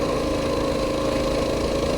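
Small single-cylinder engine on a Coleman BT200X mini bike running steadily at top speed, a loud, continuous drone with even tone and no breaks.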